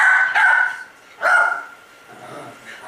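Dogs bark on a played video, two loud, sharp barking bursts about a second apart, followed by a quieter softer yip.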